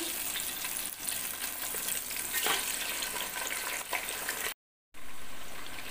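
Steady, crackling sizzle of meat frying in hot oil in a pot for pulao, close and continuous, broken by a brief silence before the sizzling resumes.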